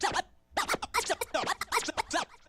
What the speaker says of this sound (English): And then now I'm starting throwing boomerangs.